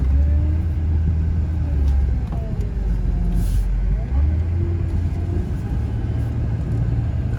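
A Mercedes-Benz S550 engine runs at a steady low rumble just after start-up at a dealer auto auction, loud and close with a constant drone and faint background noise.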